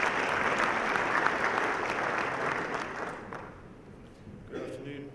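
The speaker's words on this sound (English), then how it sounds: "Please give him a round of applause as Ngoni steps up to the stage." A conference audience applauds a speaker stepping onto the stage at a blockchain event, steady dense clapping that gradually fades out, followed by a voice beginning to speak.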